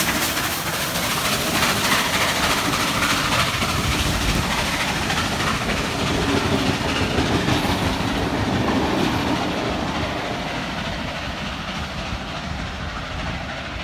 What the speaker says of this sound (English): we see 5917 charging through Carlton Station with its second last picnic train service